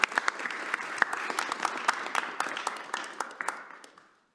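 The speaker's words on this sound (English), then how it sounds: "Let's give them another round of applause." Audience applause at a Kwanzaa celebration, a lively burst of many hands with a few sharper individual claps, fading gradually to silence over about four seconds.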